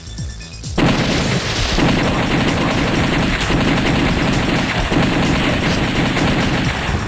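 Zombie shooter video game combat: dense, loud, continuous gunfire and booming impacts that start abruptly and persist without a break.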